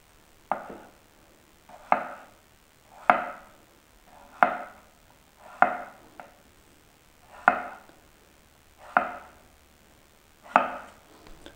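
A knife chopping cucumber, held left-handed, gives eight slow, evenly spaced single chops, each a crisp knock on the board with a short rattle, close and clear in an otherwise quiet kitchen.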